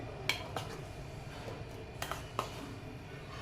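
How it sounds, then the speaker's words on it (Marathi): A few light clinks and taps of mung beans and utensils against a metal pressure cooker, scattered quick strikes over a soft background hum. "आता कुकरमध्ये आपल्याला सर्व मूग घालून घ्यायचे आहे"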